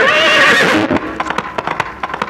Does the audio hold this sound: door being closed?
no